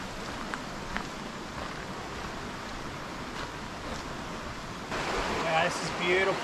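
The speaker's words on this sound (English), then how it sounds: "And then there's the water." Water flows steadily at Badger Weir in the Yarra Valley, a continuous rushing hiss that grows slightly louder near the end, with faint bird calls over it.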